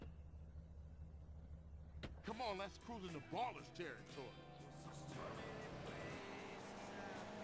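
Car engine driving in GTA San Andreas, a steady mid-level game engine hum that builds after a burst of talk and continues alone toward the end.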